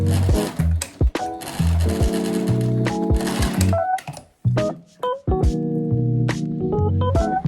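A sewing machine stitches fabric with tape under the foot, running in bursts of rapid mechanical stitching, stopping and restarting several times, with clicks and clatter between runs, close and fairly loud.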